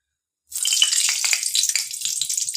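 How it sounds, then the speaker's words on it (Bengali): Ghee hits hot oil in a pan while cooking a Bengali vegetarian chana dal, bursting into a loud, steady crackling sizzle after a moment of silence and continuing close up without any talking. "এবার তেলের মধ্যে একটু ঘি দিয়ে দেবো"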